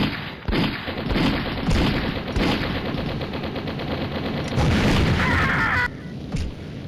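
Gunfire in the mobile game Mini Militia, rapid bursts of automatic shots crackling loudly and almost without pause, with sharp booming blasts mixed in.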